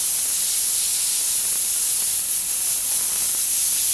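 An airbrush sprays paint freehand onto a realistic portrait, giving a loud, steady hiss of air that runs without a break.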